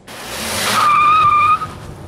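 A Dodge Journey pulls away after its parking brake is released, with a tyre squeal rising into a sustained high-pitched screech and the engine rumbling underneath, fairly loud and close, with no talking.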